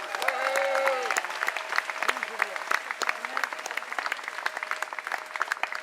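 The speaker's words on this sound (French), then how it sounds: "On peut les applaudir." Live concert audience claps at a Toulon show, a dense patter of hands that swells early and then carries on steadily while a voice talks over it through a microphone.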